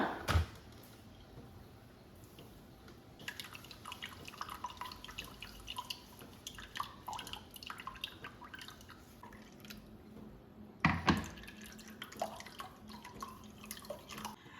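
Ground ragi mixed with water and strained: quiet, irregular drips and small liquid trickles with a couple of louder splashes, no voices.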